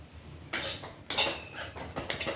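Grated coconut being roasted in a pan for Tirunelveli-style Chennai idli, with a few sharp scraping and clinking strokes of a spoon against the metal pan in quick irregular bursts, close by.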